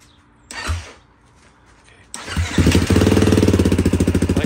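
A Beta 500 RR-S motorcycle with its stock exhaust cranks briefly, pauses, then fires up into a loud, steady idle with a rapid pulsing beat, close to the listener.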